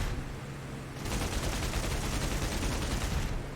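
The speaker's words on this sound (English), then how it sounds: "Putting both my machine guns and the 20mm rounds into him." A Bf 109 K-4 in the DCS flight simulator fires its machine guns and 20mm cannon in a sustained rapid burst of about two seconds. The loud, dense rattle begins and ends abruptly against steady engine drone, with no talking.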